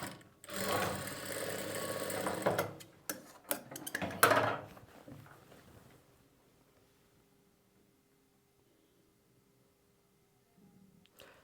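A sewing machine stitches an invisible zip in close, loud bursts of rapid whirring for about six seconds, then stops, leaving near silence with a faint hum.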